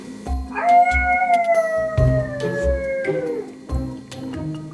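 A dog lets out one long, wavering howl close by, followed by a few shorter whines, with soft thumps and household noise around it.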